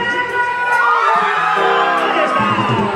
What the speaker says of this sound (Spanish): ¿No se escucha el grito?